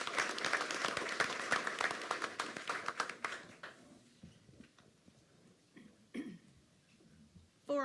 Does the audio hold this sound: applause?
yes